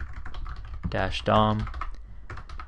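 A few quick keystrokes clatter on a computer keyboard as a terminal command is entered, the taps close and fairly quiet under a person speaking over them.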